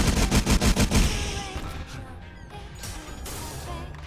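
Spirit bomb attack in a video game, a rapid volley of loud explosive impacts in the first second, then a rumbling crash that fades into lingering effect noise.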